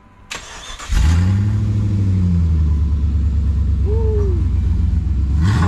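Jeep WJ engine cranks and catches after a quick start, then settles into a loud, close idle and rising rev as it pulls away on a test drive, with a brief shout over it.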